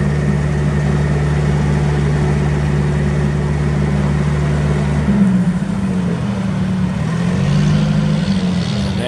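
A Hyster H50XL pneumatic-tire forklift with an LP gas four-cylinder engine idles steadily, then the revs shift and waver as it is run up, a loud, close, continuous mechanical hum throughout.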